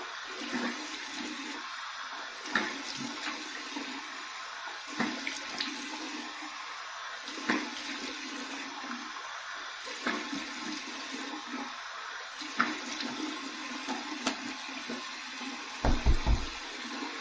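A Gem Micromatic shower head sprays a cold water rinse in a steady hiss, broken every few seconds by splashing and soft thuds as water strikes a body and the tub.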